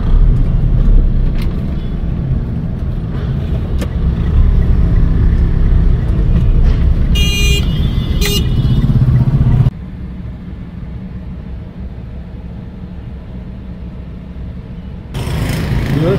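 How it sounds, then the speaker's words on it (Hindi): Road traffic in a jam, a loud low engine rumble of idling and creeping vehicles close by, with a few brief higher bursts like horns, then a quieter steady hum before the noise picks up again. "अब ये आगे है जो है ना ट्रैफिक जैम लगी पड़ी है"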